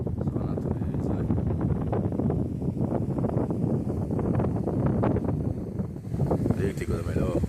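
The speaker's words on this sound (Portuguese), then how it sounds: "Tem coisa mais sossegada, só o vento passando." Wind blows steadily outdoors across open country near a town, a constant close rumbling buffet on the microphone with gusting texture throughout.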